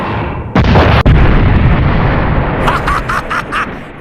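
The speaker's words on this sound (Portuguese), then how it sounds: "Nessa torre secreta tem até canhões." A cannon fires from a secret tower in an anime with two sharp, heavy booms in quick succession. A loud, rolling roar and crackle follow, filling the rest of the moment.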